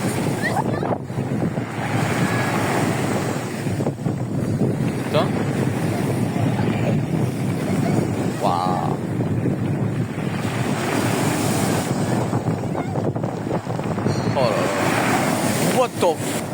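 Large ocean waves break and churn at Fécamp under strong wind buffeting the microphone, a loud continuous roar of surf with surging swells throughout.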